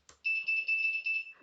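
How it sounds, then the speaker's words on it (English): A shrill electronic tone sounds in one sustained burst that pulses several times, loud and near, with no voices. "let's sound the buzzer 5 times"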